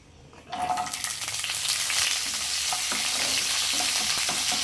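Shallots and curry leaves hit hot oil already crackling with mustard seeds and urad dal for a wedding-style raw banana fry, setting off a sudden loud sizzle that holds steady, with stirring scrapes and pops throughout.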